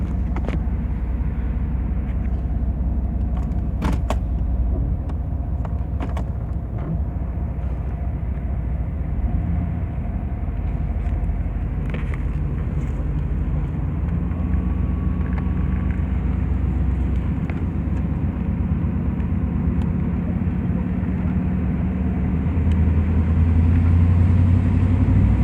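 From inside a 1995 Chevy Camaro Z28 with an LT1 V8 on the move, a steady low engine rumble and road roar carry on throughout, with the engine note shifting slightly as it drives.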